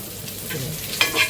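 Brinjal roasts in a dry tava without water, giving a close, steady sizzle with short stirring scrapes and clinks from a spatula.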